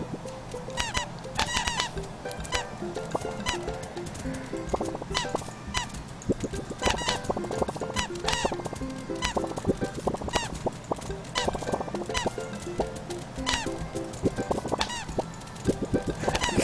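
Cartoonish penguin calls in the video game Dream Daddy, rapid repeated honking, squawking bursts in a busy, bouncy rhythm over steady game music, loud and continuous.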